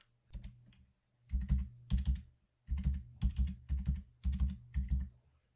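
Keys clatter on a computer keyboard during a Space Quest II session, in close, loud bursts of rapid typing separated by short pauses.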